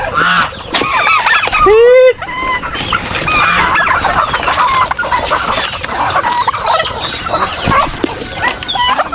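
A mixed flock of backyard chickens, native and other breeds, clucks and calls busily at close range, with one loud crow-like squawk early on and faint background voices.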